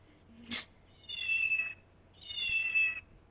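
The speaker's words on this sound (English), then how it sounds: "Do you hear our cat?" Two drawn-out, high meows from a cat, each lasting about a second with a pause between, after a brief short noise at the start.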